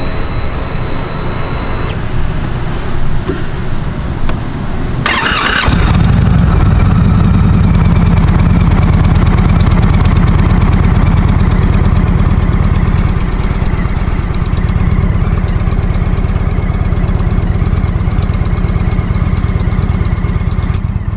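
An Indian Roadmaster motorcycle engine with an ABS fault cranks and fires up about five seconds in, then settles into a loud, steady, throbbing idle close by.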